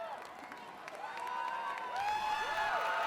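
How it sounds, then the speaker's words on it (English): An outdoor crowd at an American Ninja Warrior qualifier on Venice Beach cheers and shouts for a tiring competitor on the cargo net, the roar swelling louder partway through, with a commentator talking over it. "imploring the crowd to cheer him on even louder, and the crowd responding"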